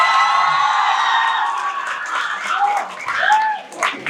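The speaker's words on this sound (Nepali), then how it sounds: "सब त्यो भाइहरूको लागि ताली बजाइदियो" An audience at a college science exhibition closing ceremony applauds and cheers for model college students, loud close clapping with whoops and shouts that swell and then fade toward the end.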